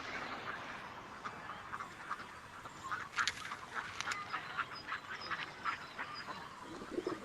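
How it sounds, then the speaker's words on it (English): Ducks and other pond birds quack in a busy chorus on a park pond, a steady mix of calls with soft water movement, fairly distant and continuous. "with the ducks and the other pond birds, with all the quacking and the splashing that goes on all the time"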